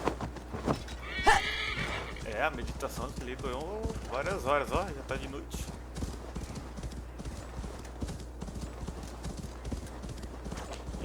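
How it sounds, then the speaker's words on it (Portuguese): A horse in the Assassin's Creed Valhalla video game whinnies loudly near the start, then its hooves clop in a steady rhythm throughout while someone talks over it. "Então vamos de cavalo."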